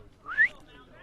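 A clown's whistle toots once at a baseball game, a short rising slide-whistle note, moderately faint over quiet ballpark ambience.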